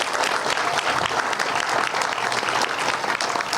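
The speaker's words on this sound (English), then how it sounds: "So a big round of applause for Mark Rowellman." A crowd claps steadily and densely throughout a round of applause at a grand opening event for a building, the clapping loud and continuous with no talk over it.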